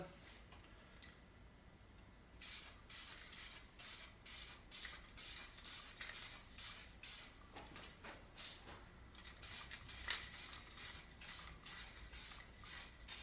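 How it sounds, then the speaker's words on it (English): An aerosol can sprays Duracoat finish onto a test piece of cardboard in a long series of short, close hissing bursts with brief gaps, steady and fairly loud. "I'm doing a test spray down here. I got a piece of cardboard down here."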